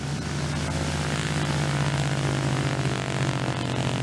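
A Douglas DC-3 propeller airliner takes off from a tricky airstrip in Colombia, its piston engines roaring loud and steady with a constant low drone throughout.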